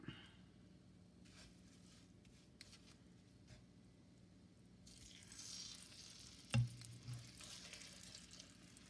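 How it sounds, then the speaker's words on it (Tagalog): Fish pieces fry in a pan for fish curry, a quiet kitchen that swells into a steady, soft sizzle when the fish goes in, with a sharp clunk partway through. "Ngayon, ilagay na natin ang isda."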